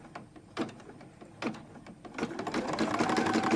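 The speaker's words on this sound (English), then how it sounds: "It'll stitch halfway up this side, it'll stop, jump over, and finish stitching to the other side." An embroidery machine stitching a stuffed snowball ornament: short bursts of rapid mechanical stitching with brief pauses between, then a longer steady run building up at the end, heard close and alone.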